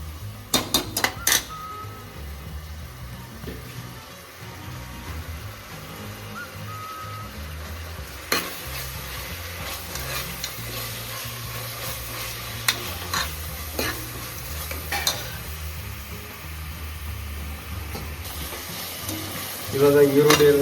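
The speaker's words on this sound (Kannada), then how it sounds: "ಈರುಳ್ಳಿ ಸ್ವಲ್ಪ ಕೆಂಪಿಗೆ ಯೆಲ್ಲೋ ಕಲರ್ ಬರೋವರೆಗೆ ಸ್ವಲ್ಪ ಫ್ರೈ ಮಾಡ್ಕೊಳ್ಳಿ." Sliced onions sizzle steadily in a pan on low heat during a room-cooked chicken biryani, with sharp clinks and scrapes of a spoon stirring at intervals and a louder clatter near the end.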